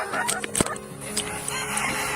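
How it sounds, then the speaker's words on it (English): Silkie chickens cluck and chatter on a farm pasture, with a sharp close call among several overlapping bird sounds at moderate volume. "I love my Silkies. They are the sweetest things. Such sweet birds."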